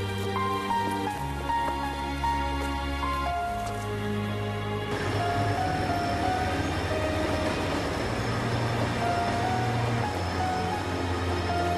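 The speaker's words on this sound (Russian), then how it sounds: "Поезд прибывает." A passenger train pulls into a station, a steady rumble of rolling wagons with sustained tonal whines and a broad noisy wash that grows busier midway through, with no voices.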